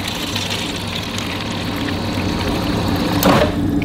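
Water from an old filter pours steadily into a sample container, a continuous close splashing wash that swells slightly near the end.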